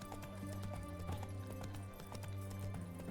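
Horse hooves clip-clopping at a steady riding pace in The Witcher 3, a rapid, even patter of hoof strikes over a low game soundscape with background music.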